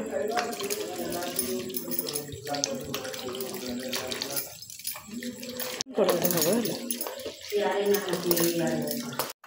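Water runs from a tap and is poured over freshly made chhena to wash it while preparing homemade rasgulla in a kitchen, a steady splashing flow that briefly pauses, with a voice talking over much of it.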